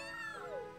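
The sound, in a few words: cat meow in video game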